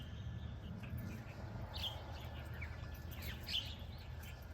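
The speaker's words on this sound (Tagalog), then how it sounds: "Maingay yung mga ibon." Birds chirp in a garden on a cold, foggy day, with faint, scattered high calls over a quiet low background hum and no one speaking.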